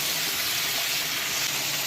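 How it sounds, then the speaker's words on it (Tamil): Tomatoes, green chillies and coriander leaves sautéing together in a pan for chicken curry, a steady broadband sizzle and hiss that stays even and continuous throughout, with no talking. "போட்டு நல்லா வதக்கிக்கலாம்"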